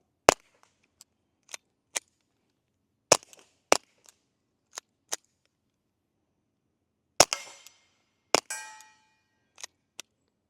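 A Ruger MKIV 22/45 Lite pistol fires CCI Quiet .22 rounds: about a dozen soft, sharp cracks, irregularly spaced with quiet gaps and occasional clattering, as light as a BB gun.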